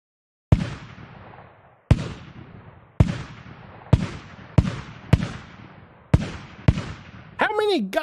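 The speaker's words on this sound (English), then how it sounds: "How many goddamn explosions does a man need?" Unreal Engine 5 library explosion effects play one after another, eight sharp booms with decaying rumbles at irregular intervals, followed by a brief whooshing, warbling sound.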